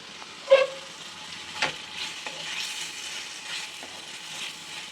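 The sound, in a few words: ginger garlic frying for capsicum chicken gravy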